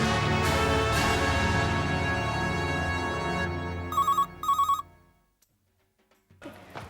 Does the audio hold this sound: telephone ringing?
yes